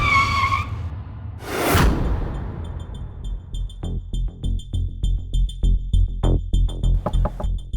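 A car skids to a stop with a loud, brief tire screech, followed by a series of sharp rhythmic thuds and bangs amid dramatic tones.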